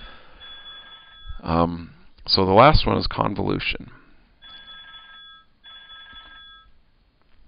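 A phone rings in a lecture setting, repeated tonal ringtone bursts sounding steadily under and between a man's speech.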